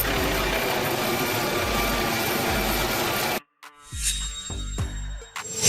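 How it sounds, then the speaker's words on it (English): A police helicopter's steady rotor and turbine roar fills the first three seconds with a dense, continuous drone, then cuts off abruptly, replaced by quieter, choppier mechanical tones and a rising whine. "Police helicopter. A helicopter used by police for patrolling, surveillance, and supporting law enforcement activities."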